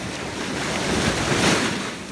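Ocean waves washing onto a beach, a steady broadband rush of surf with wind noise buffeting the microphone, swelling slightly toward the middle of the short stretch.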